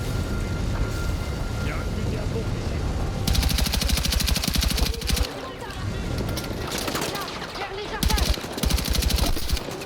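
An MP7 submachine gun firing in the video game Battlefield 6, two long loud rapid automatic bursts amid constant battle noise and rumble.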